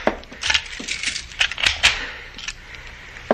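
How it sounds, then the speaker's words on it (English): A door is locked with keys in an old radio drama, scattered close metallic clicks and jingles spread over a few seconds, sharp and irregular. "I will lock it."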